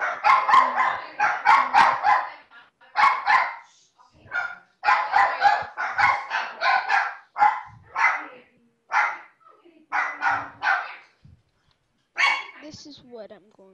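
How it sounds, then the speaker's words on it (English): Dogs bark repeatedly indoors, with loud, rapid bursts of barks and yips in uneven clusters separated by short gaps. "Sorry guys, about the dogs."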